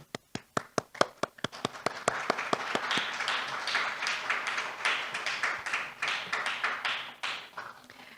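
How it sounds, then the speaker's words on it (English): Scattered individual claps start the applause at a forum closing session, sharp and distinct at first, then the audience joins in and it thickens into a fuller, rolling round of clapping. "A big round of applause."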